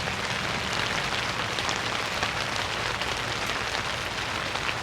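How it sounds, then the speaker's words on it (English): Steady rain drumming on a roof outdoors on a morning, a dense continuous hiss of drops with no pauses, even in loudness throughout and no voices. "And I love the sound of that rain on the roof."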